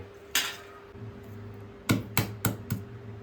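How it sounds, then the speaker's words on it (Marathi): Garlic is cut and crushed on a home kitchen counter while chicken is prepared: one sharp knock, a pause, then four quick, close, hard pounding strikes in a row. "आता लसूण कापायचे, लसूण ठेचायचे"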